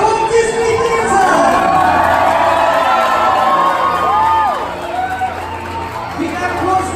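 A theatre audience at a Walt Disney Theatre show on a Disney cruise cheers, whoops and claps loudly for the cast, a dense steady roar of crowd noise with voices shouting throughout.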